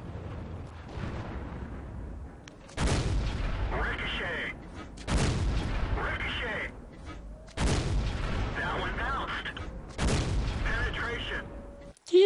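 Four heavy shell impacts strike a light tank's armor in World of Tanks and bounce off, each a loud, sudden clang with a ringing tail, spaced a few seconds apart.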